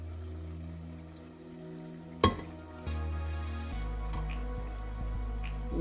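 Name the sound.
spice masala frying and being stirred in a pan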